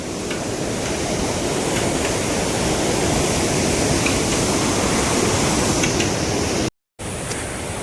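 River water rushes loudly below a trekking bridge on the Hampta Pass trek from Manali, a dense, constant roar of whitewater filling the whole span, broken only by a brief cut near the end.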